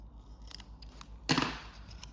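Scissors cut through card on a paper-crafting table. One close, sharp snip stands out after a few faint handling clicks.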